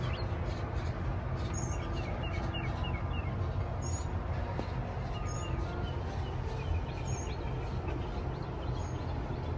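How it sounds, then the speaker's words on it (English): Songbirds chirp outside an apartment in spring, small scattered calls over a steady, fairly loud low rumble of outdoor background noise. "Sometimes when the workers go home already, all you hear is the birds."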